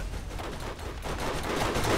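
Dense, continuous automatic gunfire from a Borderlands co-op shooter, a steady loud burst of rapid shots filling the whole stretch without speech.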